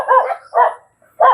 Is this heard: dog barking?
yes